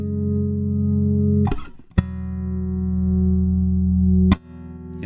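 Sustained electric guitar chords ringing through a Chase Bliss CLEAN compressor pedal with sag, with a few sharp strums between long, steady held tones that swell slightly.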